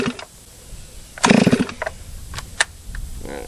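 A Stihl 036 (MS360) chainsaw running rich after a port job, giving a short close burst of engine revving followed by sputtering, uneven pops and bursts as it burbles at lower speed.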